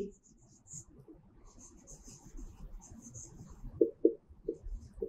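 Handwriting during a maths lesson, faint scratchy strokes of pen or chalk in short irregular bursts, with a few sharper taps near the end, close and quiet.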